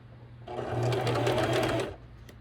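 A sewing machine stitches fabric for a doll flight suit in one short close burst, its motor whirring with a quick mechanical chatter for about a second and a half.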